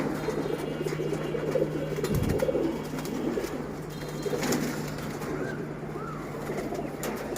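Silver pigeons of the Palla line coo in low, soft murmurs over a constant background hum, with faint rustling and a few brief higher calls near the end.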